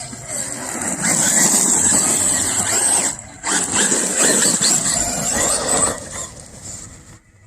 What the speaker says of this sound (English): I hear my XMAXX back there just humming. That fan in there must be rubbing on something.